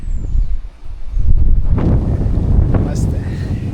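Wind blowing across open farmland in a village, a loud steady broadband rush buffeting close against the microphone, with gusts that swell and fade and no voices heard.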